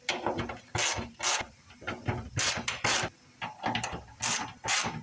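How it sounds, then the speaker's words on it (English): Close ratchet clicks tighten the bolts on an F-350 Super Duty fuel sending unit, coming in short rhythmic bursts of rapid pawl clicking with brief pauses between them. Nobody talks. "So we're going to use our ratchet, and we're going to hand snug these."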